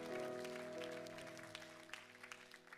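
A church audience at a young adults' service applauds for mothers, with steady clapping under a sustained musical backing that gradually thins out.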